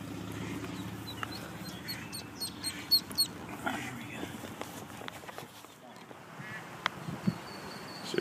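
A mother duck quacks outdoors in short, faint bursts while ducklings are released, with footsteps rustling nearby and people talking over it.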